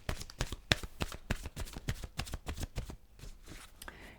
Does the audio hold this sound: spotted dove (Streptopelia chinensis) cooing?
no